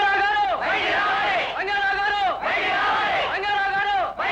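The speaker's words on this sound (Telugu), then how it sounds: "ఏమిటి అరుపులు కేకలు?" A crowd of many voices shouting and yelling together in long, loud, sustained waves with brief pauses between them, from a dramatic scene in a Telugu film.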